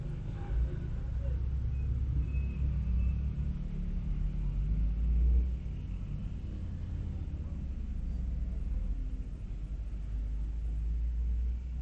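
A waiting bus's engine rumbles steadily and low at a roadside in the early morning, a continuous near drone that swells slightly midway, with faint voices in the background.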